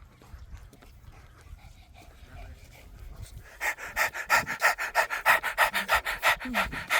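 A dog pants hard after running at a skatepark, a rapid, rhythmic run of close breaths that starts partway through and keeps going to the end, with quiet voices talking earlier.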